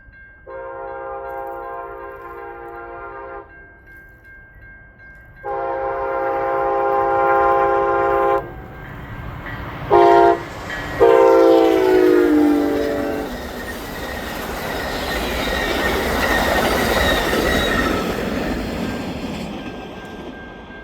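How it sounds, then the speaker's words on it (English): A CN freight train, the southbound Saluki, passes just south of Centralia in Irvington, Illinois, sounding several long, loud horn blasts, then a steady close roar of rolling cars with clickety-clack that fades slowly. "we would catch CN P39191, the southbound Saluki just south of Centralia in Irvington,"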